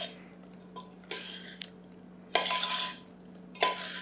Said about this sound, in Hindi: 1/4 चम्मच करीबन अमचूर पाउडर डाल देंगे और मिक्स कर लेंगे